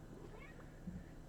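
A cat gives a single soft, short meow. It sounds faint and fairly close against a quiet background.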